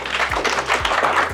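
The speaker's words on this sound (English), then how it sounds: "Another round of applause for her" Audience at a business breakfast in a Nairobi hotel clapping for a speaker, a dense steady wash of applause with a few low thumps beneath, fairly loud and brief.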